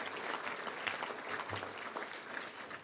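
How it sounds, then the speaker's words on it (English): Steady applause fills a club luncheon room, a broad wash of clapping from the audience that holds at an even level throughout with no voices over it. "Let's give a round of applause for all those folks who support the club."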